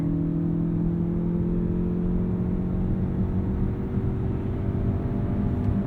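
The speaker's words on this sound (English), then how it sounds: "An instant shove from the electric motor there." A 2020 Ford Escape Hybrid pulls away on its electric motor, heard from inside the cabin as a steady low drone with a faint rising whine, even and moderately loud throughout.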